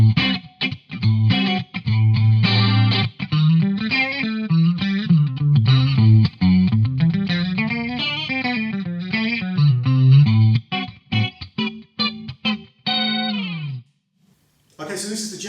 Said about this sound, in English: here we've got DSL clean chorus, which is basically the clean channel of a DSL amp, obviously with some chorus on